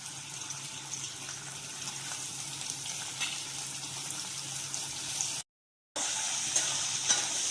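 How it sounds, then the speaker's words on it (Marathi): Steady, close sizzling of dried prawns frying in hot oil, a dense crackling hiss throughout with a brief gap of silence near the end. "आपले सोडे असे चांगले आपण म्हणजे लाल कलर वरती परतून घेणार, याला तळून चांगले"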